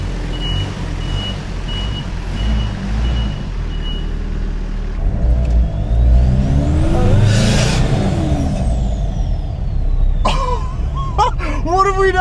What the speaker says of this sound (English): The compound turbo Hilux kit.